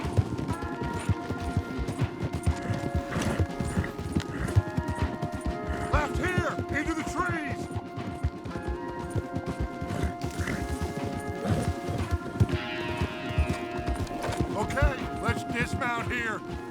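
Horses galloping hard with rapid clip-clopping hooves in the video game Red Dead Redemption 2, a steady pounding rhythm throughout with music and voices talking over it.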